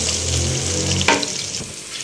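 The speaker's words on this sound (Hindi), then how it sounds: "अब इसके अंदर साबुत गोल मिर्च जो है वो ऐड करूँगी, इसको भी हम फ्राई करेंगे इसी के साथ।" Whole black peppercorns fry in hot oil with a close, steady sizzle and a brief clatter as they hit the pan.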